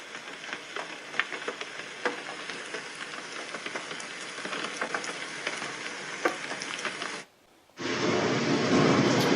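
A white noise speaker plays a rain-on-a-tin-roof track: steady rain pattering on a hard surface with dense, crackling drops and occasional louder taps, briefly cutting out before a louder, fuller downpour resumes.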